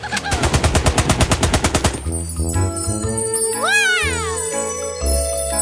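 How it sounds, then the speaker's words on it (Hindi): Rapid bursts from an animated bubble gun in a cartoon challenge, a fast even stream of popping shots for about two seconds, followed by bright chiming, sparkly musical tones and rising whistles. "मुझे बबल गन चाहिए।"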